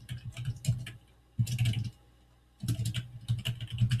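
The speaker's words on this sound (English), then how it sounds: "and just start typing to enter information" Typing on a computer keyboard while entering data into a spreadsheet, rapid clicking keystrokes in bursts separated by brief pauses, close and fairly quiet with no talking.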